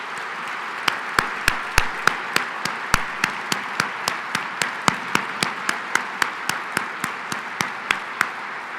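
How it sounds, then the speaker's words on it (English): At a groundhog breakfast, an audience applauds the veterans as they stand, a steady wash of clapping across the room with a few sharp, close claps marking a regular beat throughout. "can we give them a round of applause?"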